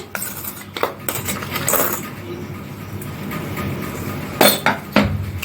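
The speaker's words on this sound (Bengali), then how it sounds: "চিনি গুঁড়ো আমি দিয়ে দিচ্ছি 2 চামচ" Two spoonfuls of powdered sugar go into bael sherbet in a glass, with sharp spoon clinks and taps against the glass rim, close and crisp, scattered across a quiet kitchen background.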